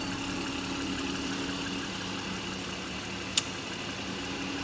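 A car's 3-liter six-cylinder twin-turbo engine idles steadily with a smooth, even hum, close by and without speech, broken by one short click.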